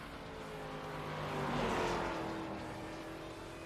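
A race car at South Boston Speedway, a short oval track, passes with a faint, distant engine drone. The sound swells as the car goes by and then fades, with no talk over it.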